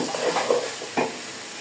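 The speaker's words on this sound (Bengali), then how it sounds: "তো চালটাকে আমি ভালো করে ভেজে নিতেছি।" Rice frying in a generous amount of hot oil for morog polao, giving a steady soft sizzle with a couple of brief stirring scrapes, close and alone.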